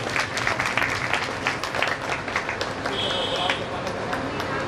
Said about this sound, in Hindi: ताली तो आप लोग बजा रखिए